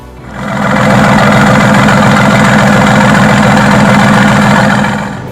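A Mercedes-AMG GT S sports car exhaust idles steadily, a deep, even burble with a low rhythmic throb, close and loud, fading in and out at the edges.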